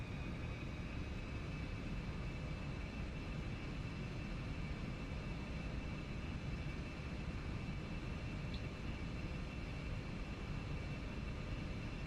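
A simulated airplane takes off in X-Plane 11, heard as a steady, loud, unbroken engine roar with dense broadband rumble and a faint high whine, constant across the whole stretch with no voices.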